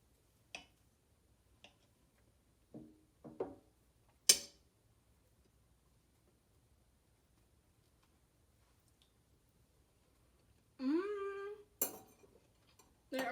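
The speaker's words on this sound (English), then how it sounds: "Okay, I've got a fork and knife ready." A fork and knife cut into banana macadamia nut pancakes on a plate, giving sparse, quiet clinks and scrapes spread across a mostly silent room, with a brief squeak near the end.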